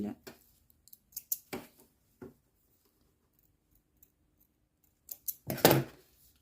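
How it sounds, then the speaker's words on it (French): Scissors snip through sewing threads in a few quick, close cuts, with a denser burst of snipping near the end and quiet gaps between. "On va venir couper un peu les fils."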